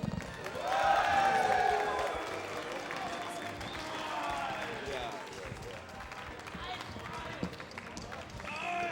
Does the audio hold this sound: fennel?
no